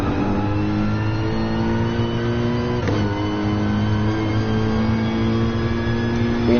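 A Mercedes AMG GT race car in GT Sport holds a steady, loud engine drone, its tone rising slowly as it accelerates, with a brief sharp blip near the middle and no talk over it.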